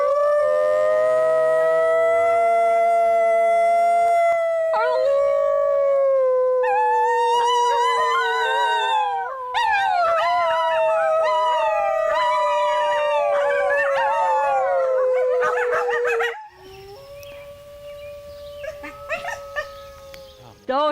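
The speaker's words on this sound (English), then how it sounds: "Those are the wolf howls. That's the wolf howl," A chorus of wolves howls loudly, long sustained tones rising and falling and overlapping as more voices join in, then thinning into quieter, scattered howls near the end.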